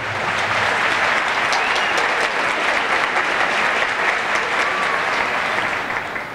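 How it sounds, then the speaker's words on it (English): An audience at the 2013 Elon University commencement ceremony applauds. The clapping is continuous, dense and evenly sustained, coming from a large crowd throughout. "you hear those applause on both wings"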